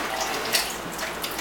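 Soaking water drains off a batch of sprouting seeds, giving a steady, close splashing and trickling pour that runs continuously without pause.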